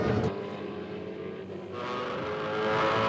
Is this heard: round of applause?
no